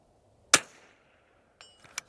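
A single sharp rifle crack from a Vudoo .22LR in an MDT ACC Elite chassis rings out close and loud, then a short decaying tail, followed by fainter clicks and a smaller snap about a second later.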